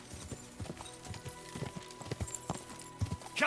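Horse hooves gallop in a fast, uneven clip-clop rhythm, fairly faint and close, in the medieval video game Kingdom Come Deliverance 2, with no speech over them.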